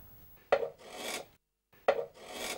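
Hand tool rasping the arched spruce top of a violin, two separate strokes, each a sharp bite followed by a longer scraping rub, close and fairly quiet with a pause between them.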